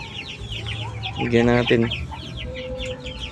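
Free-range backyard chickens clucking nearby, several short throaty clucks and a brief louder squawk, with someone speaking over them.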